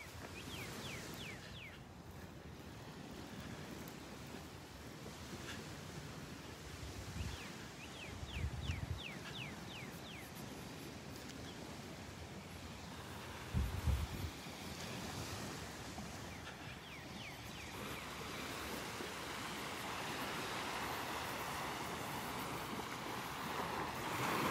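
Steady ocean surf and wind wash over a beach at Delnor-Wiggins on a morning walk, a constant broadband roar with a few brief low thumps of wind buffeting the microphone, swelling slightly toward the end.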